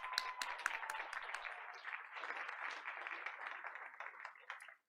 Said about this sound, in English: Audience, let's give them another round of applause.